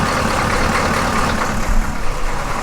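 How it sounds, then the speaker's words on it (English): A military square-body Chevy diesel truck idles close by with a steady, rough, low rumble that continues on its own for the whole stretch. "We're gonna let this thing idle for a little bit."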